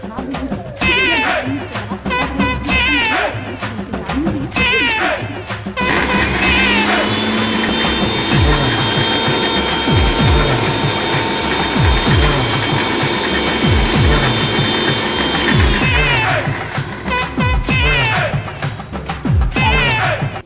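A kitchen mixer grinder blends ginger, garlic and green chillies into paste, its loud motor whirring steadily for several seconds after some clattering and handling noises, then cutting off as the clattering resumes.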